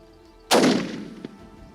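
A single rifle shot fired at a Cape buffalo during a hunt cracks sharply and close, followed by a decaying rumble with a faint echo; no talking.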